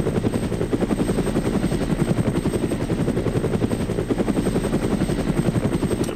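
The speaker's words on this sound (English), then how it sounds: "Everybody in the chopper." Military helicopter in the video game ArmA: Red Hammer: a loud, steady rotor chop with rapid rhythmic thumping over an engine whine, heard up close and continuous, with no talk.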